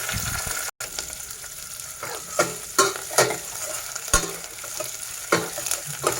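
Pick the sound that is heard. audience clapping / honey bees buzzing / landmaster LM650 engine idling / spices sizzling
spices sizzling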